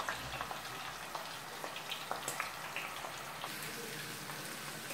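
Minced meat frying in a pan for a Gaziantep-style zucchini dish, a continuous close sizzle full of small crackles and pops, steady and fairly quiet with no talking.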